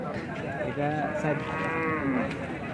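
Australian breed bull lowing at a cattle market, a single long, drawn-out moo close by with low background chatter.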